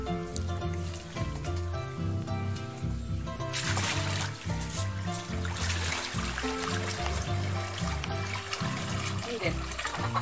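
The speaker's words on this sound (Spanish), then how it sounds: "para poderla enjuagar en el agua corriente que está en este canal" Running water flows and trickles in a canal where sheep's fleece is being rinsed, a steady splashing murmur close by under a voice talking throughout.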